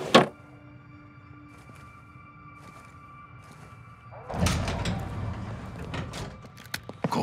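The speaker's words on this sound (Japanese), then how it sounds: "ドアが開いた。" A door opens in the Call of Duty Modern Warfare II campaign: a sharp thunk at the start, then quiet game ambience, followed later by a louder, broad mechanical rush and rumble as it slides open.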